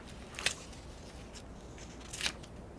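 Scissors snip through paper while cutting out a printable pumpkin design for a craft project; two short, crisp cuts sound close and quiet, spaced well apart over a faint background hush.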